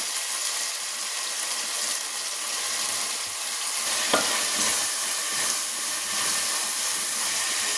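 Small onions (shallots) sizzle steadily in a hot pan with a constant frying hiss, and a brief stirring clink cuts in partway through, while making crab pepper masala. No voices.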